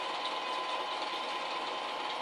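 A sewing machine stitches around a quilt petal with a steady, even mechanical whir and rapid needle chatter, close and moderately quiet, unbroken throughout with no voices.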